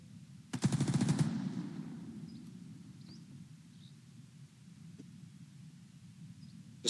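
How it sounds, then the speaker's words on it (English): Machine gun fire in the Second Front war video game, a brief rattling burst near the start that fades into a low rumbling ambience, followed by a few faint distant pops and a sharp hit at the end. "Just firing targets of opportunity here."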